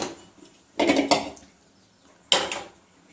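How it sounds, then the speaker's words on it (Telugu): A cooking pot is set down on a stove with three clear metallic clanks, two close together and one a little later, over a quiet background. "స్టవ్ గీచుకొని గిన్నె పెట్టుకుందాము."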